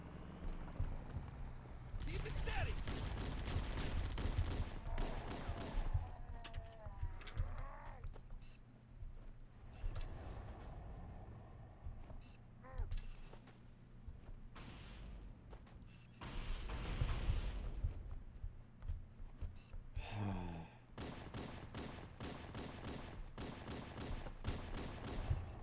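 Gunfire in Halo CE: several quiet stretches of rapid repeated shots, heaviest early on and again near the end, with lulls of softer game noise in between.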